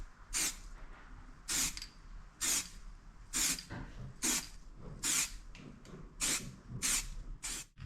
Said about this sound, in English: Now I'm just going to hit it with a spot of grey primer.